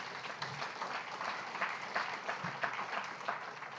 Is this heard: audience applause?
yes